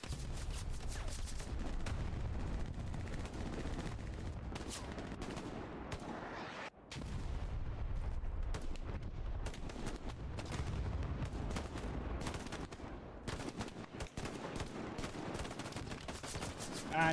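Dense gunfire from the Hell Let Loose video game, with bursts of rapid shots and heavy booms packed together almost without pause, loud and continuous, briefly dropping out once.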